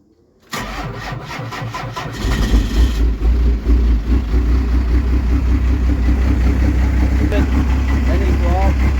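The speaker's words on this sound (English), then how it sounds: "It idles fine and it starts fine." A first-generation car engine starts with a burst of cranking and settles into a steady, loud, close-up idle with a slight miss that runs on throughout.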